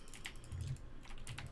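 Typing on a computer keyboard during Minecraft gameplay, a few quiet bursts of soft key clicks that are faint and close against a low background hum.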